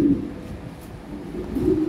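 A pair of Opal Lahori pigeons cooing at a pigeon seller's, soft low burbling coos repeating close by in a quiet space.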